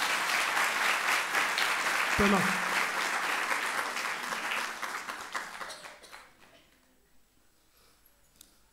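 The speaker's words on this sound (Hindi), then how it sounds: "अब ताली बजाओ अगर ये करते हैं।" An audience at a meditation class claps together in a dense, sustained round of applause that gradually thins out and fades, with a few scattered claps and a spoken word near the start.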